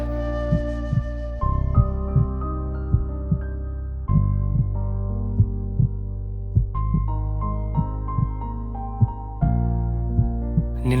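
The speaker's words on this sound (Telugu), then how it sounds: "నా గుండె చప్పుడు విను" A heartbeat in a Telugu romantic short film thumps as low, soft pulses at a slow, steady pace beneath gentle sustained music, with no voices.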